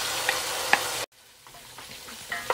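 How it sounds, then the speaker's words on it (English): Tomato paste goes into a pot and is stirred in for jollof rice, with a loud sizzle that cuts off abruptly, then quieter spoon scrapes and light taps close by. "now I want to put my tomato paste in"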